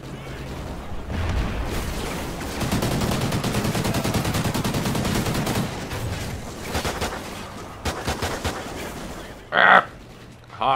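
Sustained aircraft cannon fire from a strafing gun run in Call of Duty Ghosts, a loud dense rattling burst lasting several seconds, then tapering into scattered shots and a sharp final impact.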